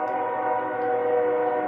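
An Amtrak passenger train passes nearby, heard as a steady, loud tonal drone with strong harmonic whine throughout and no talk.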